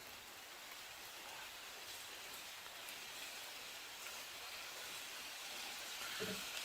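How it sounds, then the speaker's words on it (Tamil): Heavy rain pours outdoors at a check dam in the foothills near Coimbatore, a soft, even, broadband hiss of falling water that stays faint and constant, with no talk. "நல்லா பலமா பெய்யுது."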